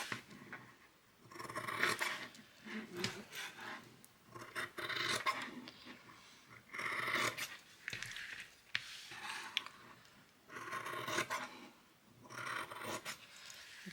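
Scissors snipping and rasping through fabric around a shape, repeated cutting strokes in bursts with short pauses, close and moderately loud, no talking.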